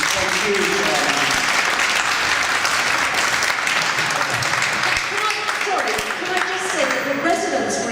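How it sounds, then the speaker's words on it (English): Loud, sustained audience applause for the panel and council staff at a public question-time meeting, dense clapping throughout with a voice speaking over it near the end. "I think a round of applause."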